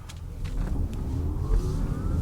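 A quiet electric car pulls away after being shifted into drive, giving a low rumble of road and cabin noise with a faint motor whine that rises gently as it gains speed.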